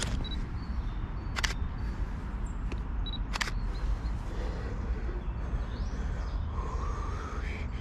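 Two sharp mechanical shutter clicks from an SLR camera, spaced about two seconds apart, over a steady outdoor street background with faint bird calls.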